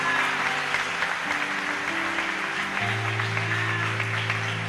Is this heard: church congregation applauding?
yes